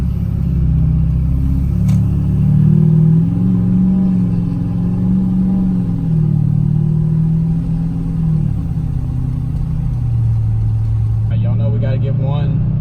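A Duramax diesel truck engine rumbles and revs, with a low, steady drone that swells and eases while people talk over it.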